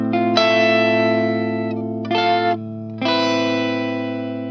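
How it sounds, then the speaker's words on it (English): A clean electric guitar with light compression and impulse-response speaker simulation rings out in sustained chords, three struck phrases with a short gap, notes decaying smoothly, played alone with no talk. "it's just got a bit of compression and just the IR speakers on it, and it's just Clean Guitar"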